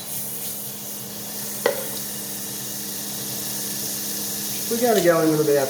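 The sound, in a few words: knob of butter melting and sizzling in a hot pan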